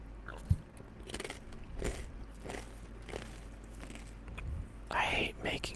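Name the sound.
chewing food into a microphone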